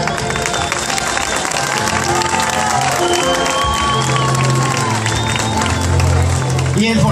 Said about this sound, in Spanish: Y el fortísimo aplauso para esa artista